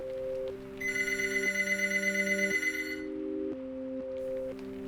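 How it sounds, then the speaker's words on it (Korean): An office telephone in a military administration room rings insistently, a loud electronic ringtone of stepped, repeating tones that shift pitch in a pattern, alone with no voices. "아침 6시가 넘어가자 행정실 전화가 요란하게 울렸다"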